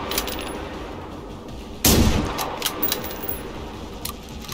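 Enemy gunfire in GenZ, a sudden loud shot or burst with a ringing, metallic tail near the middle, followed by a few fainter clicks and pops over quiet background.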